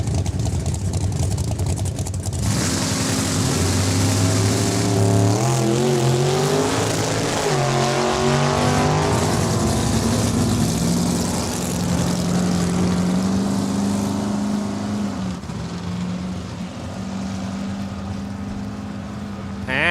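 Drag race cars roar off the line at Saskatchewan International Raceway, with loud engines revving and climbing in pitch through shifts, then a sustained rumble receding down the strip, heard outdoors and close at first.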